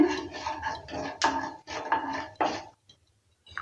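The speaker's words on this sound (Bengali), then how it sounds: "কালো জিরেটাকে দেওয়ার পর আবারও নেড়ে চেড়ে নিচ্ছে" Black cumin is stirred in a pan with a metal utensil, a busy run of scraping and clinking strokes in uneven bursts, close and clear, ending in brief silence before a last scrape.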